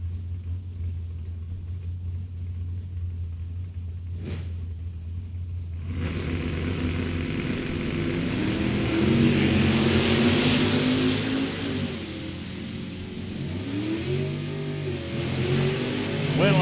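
Drag race launch of an 82 Chevrolet S10 and a Camaro at a drag strip: a low steady rumble, then a loud surging roar of engines that builds and swells with shifting revving tones, with no voices.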